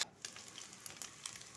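Small shrimp frying in a pan with chopped garlic and a few green chilies, giving a quiet, steady sizzle with soft crackles throughout and no talking.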